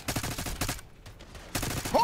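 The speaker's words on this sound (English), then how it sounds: "I like the way that gun sounds." Close, loud gunfire from Call of Duty: Black Ops 6. Two rapid bursts of automatic fire are split by a short quiet gap, and a brief electronic game tone follows.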